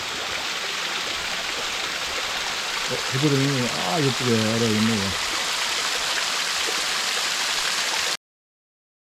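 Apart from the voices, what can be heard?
mountain valley stream flowing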